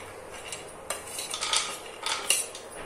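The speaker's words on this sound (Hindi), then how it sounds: "अब इसमें हम भूनेंगे अपनी बादाम" A spoon stirs almonds and cashews roasting in a pan, making a series of irregular metallic scrapes and clinks with a rattle of nuts. The sound is close and fairly loud, with no voice over it.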